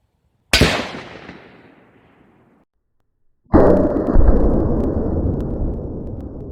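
Two sharp, loud gunshots fire swaged bullets, some of them experimental, into a thick lead platter. The blasts are about three seconds apart, and each is followed by a decaying rumble; the second tail rings longer.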